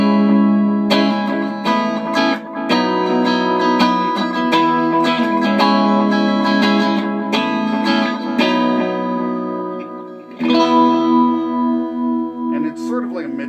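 A homemade DIY delay pedal repeats a guitar's notes in echoes that go duller as each high end rolls off like old tape delay, with sustained tones ringing and strummed attacks over about thirteen seconds, fairly loud.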